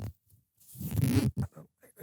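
A zipper is pulled in a few quick ripping strokes, the longest in the middle, followed by shorter tugs; nearby and fairly loud, with no talking.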